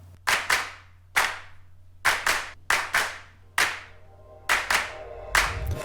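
Hand claps recorded for a music track ring out in a loose, uneven sequence, about a dozen sharp, close slaps, some landing as quick doubles and some a little lighter or brighter.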